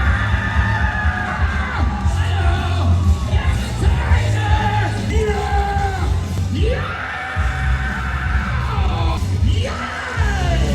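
A dense rave crowd at a DJ set at Planet Comicon Kansas City 2025 screams, whoops and yells loudly and continuously over thumping low music, voices rising and falling in excited waves.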